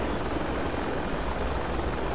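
A helicopter in the military video game Project Reality gives a steady, loud rotor roar with a dense, rumbling thump.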